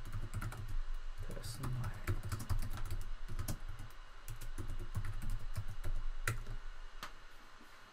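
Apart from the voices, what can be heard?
typing a product name on a computer keyboard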